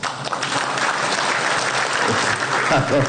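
Audience clapping at a public address by a home minister: a dense, steady wash of applause from a crowd, loud and sustained for the whole stretch, with a voice faintly underneath.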